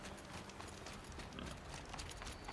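Galloping mount hooves sound in the Horizon Zero Dawn video game, a faint, continuous, rapid clip-clop rhythm set against a dense wash of game ambience.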